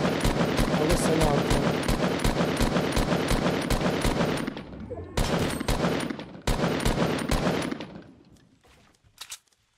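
Gunfire from the video game Fortnite rattles in fast, loud, near bursts of repeated shots, breaking off briefly and then fading to a few scattered shots at the end.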